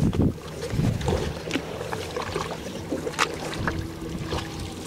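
Canoe paddling on a river: soft water splashes and sloshing from paddle strokes, with scattered knocks against the hull and light wind noise on the microphone, fairly quiet and without talk.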